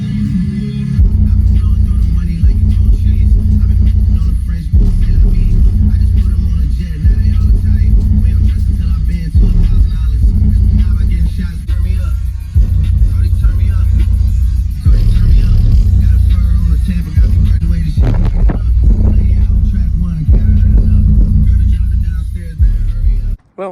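A truck's car audio system powered up with the key turned, producing loud, continuous bass-heavy music that thumps steadily and fills the cab, ending abruptly.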